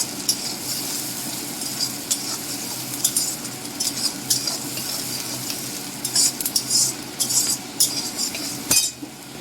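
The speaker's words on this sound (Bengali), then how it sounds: "দিয়ে দিচ্ছি কুচি রাখা পেঁয়াজ" Chopped onion fries and is stirred in a pan, giving a constant close sizzle broken by spoon scrapes and light metallic clinks, with one sharp knock near the end.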